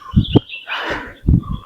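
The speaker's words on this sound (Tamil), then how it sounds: "பறவைகள் சவுண்ட்லாம் நல்லாவே சூப்பராக கேட்குது மக்களே" Birds call in a hill forest, with a couple of short chirps, then a rising airy call, then more chirps. The calls are close and clear against a quiet background.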